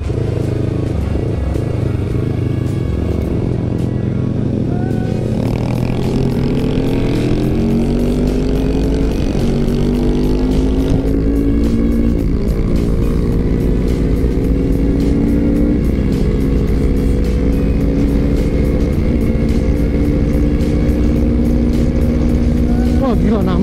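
A Kawasaki Ninja 250 FI motorcycle with a ported engine accelerates hard, its engine note climbing through the gears in a loud, sustained run, with riders talking over it.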